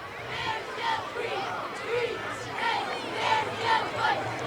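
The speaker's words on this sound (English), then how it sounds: "You have an enthusiastic crowd responding to him tonight" A high school football crowd at a home game cheers in rhythmic waves, many voices rising and falling in repeated chant-like bursts, distant and fairly faint.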